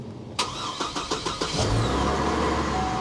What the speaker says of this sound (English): let's go ahead and fire this puppy up so you can hear.